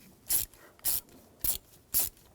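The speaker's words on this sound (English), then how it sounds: "And we'll use a 6mm socket," Ratchet with a 6mm socket loosening hose clamps while replacing the heater control valve on a 2007-2013 BMW X5 3.0L inline-six, four crisp evenly spaced clicking bursts up close, with no talk.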